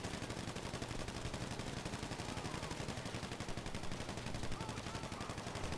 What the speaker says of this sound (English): Iron started shooting shortly after I said I don't hear any gunshots